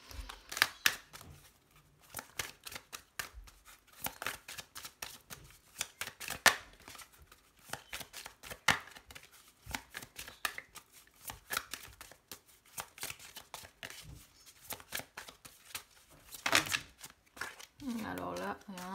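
A deck of tarot oracle cards, an oracle of mirrors, is shuffled by hand: a long run of crisp papery riffles and slaps in irregular bursts, close up, with no talking.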